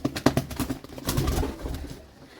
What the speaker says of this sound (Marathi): एक कबूतर